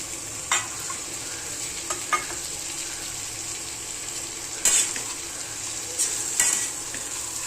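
Eggplant cooks in a kadhai after a little more oil is added, giving a steady low sizzle broken by several sharp spoon scrapes and clinks against the pan, close by and without speech.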